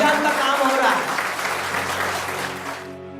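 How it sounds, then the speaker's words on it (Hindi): Strong applause from an audience at an Ayurvedic diabetes treatment event, a loud wash of clapping that carries a voice talking over it and fades away toward the end. "अपने आप के लिए एक बार जोरदार तालियां।"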